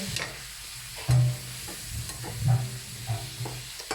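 Frog stir-frying in spicy sauce, with close, steady sizzling and repeated scrapes of a utensil stirring through the pan, a few louder bursts standing out along the way, and no talking.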